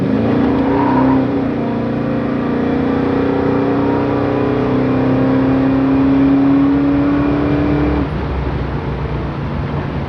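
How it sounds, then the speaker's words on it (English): A 1970 Chevrolet Chevelle SS with cowl induction accelerates hard, its loud, steady engine roar climbing in pitch for about eight seconds before easing off. No voices are heard. "Car has plenty of acceleration."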